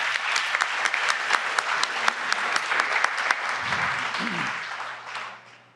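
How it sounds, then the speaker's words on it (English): Audience applause at a venture pitch competition event, a dense burst of clapping from a seated crowd that holds steady for several seconds before tapering off, with a brief low murmur of voices partway through. "Let's give them one round of applause"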